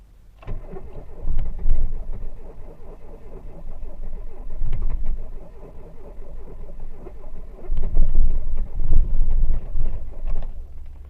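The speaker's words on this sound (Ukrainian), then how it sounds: "Не, с першого раза не захотіла." A car engine in -11°C frost, with a weak battery, cranks without starting. There are three long bursts of loud, rhythmic starter churning, close by, with brief pauses between them.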